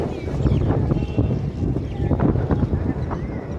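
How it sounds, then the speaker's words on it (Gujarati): Strong wind on the bank of the Tapi river in Surat buffets the microphone in a loud, low rumble that gusts and swells without a break. "પવન ખૂબ છે સરસ"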